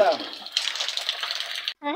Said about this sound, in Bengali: এই যে ছাদের পানি পড়তেছে আর এই পানিতে যে গোসল করতেছে